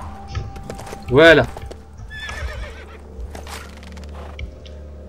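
A horse in the Lego Lord of the Rings video game lets out one sharp, loud whinny, followed by softer clip-clopping hooves while someone talks over the game.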